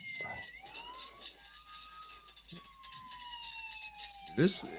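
Wailing ambulance siren in a video game, sweeping up and holding in long tones, fairly faint beneath people talking over it, with a sudden sharp burst of game noise near the end.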